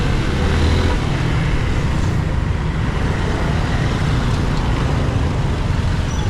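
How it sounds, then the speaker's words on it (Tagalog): Dense road traffic in Puerto Princesa, recorded on a GoPro Hero 11 with a wind cover, gives a constant loud rumble of passing cars and engines close by, with no talking. "So, traffic na nga talaga ngayon dito sa Puerto Princesa"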